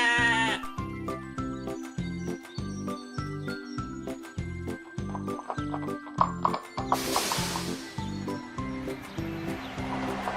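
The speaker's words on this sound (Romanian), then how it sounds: "O oaie." Cartoon sheep bleating in a children's animated train scene, heard over steady rhythmic backing music, with a horse whinny and clip-clop mixed in and a bright burst of noise near the end.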